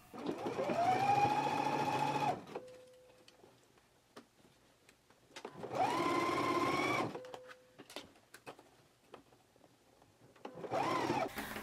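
A sewing machine stitches a sleeve seam in three loud, steady bursts of motor whir, each a couple of seconds long, with quiet pauses and small clicks between runs.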